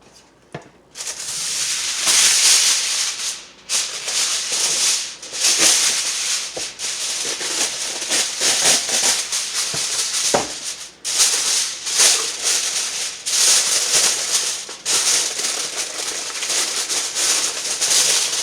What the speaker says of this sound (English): I'm going to tent this with foil and I'm going to pop it in the oven.